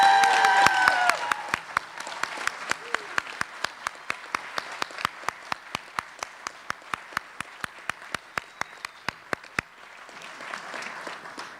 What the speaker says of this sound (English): give us a loud round of applause for the people of Wake County.